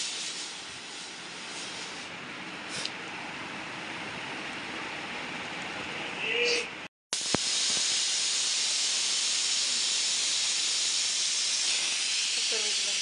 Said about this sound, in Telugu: కుక్కర్ విజిలంతా పోనేస్తానండి.